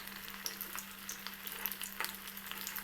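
Vada deep-frying in plenty of oil, a faint, even bubbling crackle with scattered small pops over a constant low electrical hum.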